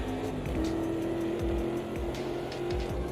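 Supercharged V12 race car engine in the racing game Automobilista 2, holding a steady high drone with rhythmic surges and gear-change dips, loud and continuous with no talk over it.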